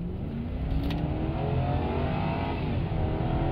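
A Lexus GS400/LS430 engine with a Tom's Super Ram II drop-in air filter revs steadily and loudly, a continuous rising growl with whooshing intake noise, close by and without talk.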